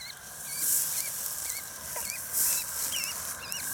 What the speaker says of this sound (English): A wild gosling.